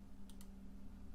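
Two quick, close computer mouse clicks, faint, over a steady low electrical hum while copying and pasting in Pinnacle Studio video editing software.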